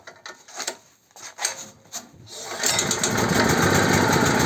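A NOWA BG 34 petrol generator is turned over with its electric starter. A few sharp clicks and rattles come first, then the engine catches and settles into a loud, steady running roar.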